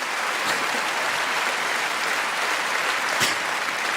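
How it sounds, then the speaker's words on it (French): Sustained, even applause from a theatre crowd at a French stand-up comedy show, a continuous roar of many hands clapping throughout, with a couple of sharper claps standing out. "Applaudissez le temps que je cherche"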